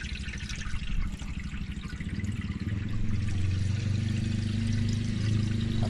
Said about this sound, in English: we're going to pour some radiator fluid up in here